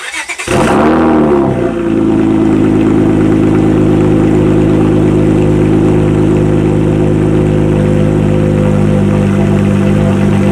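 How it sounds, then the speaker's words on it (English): A car engine with its exhaust cannons taken off the back fires up and then settles into a steady, loud, close idle with a low, even rumble. "I'm gonna see what the car sounds like if I take the cannons off the back."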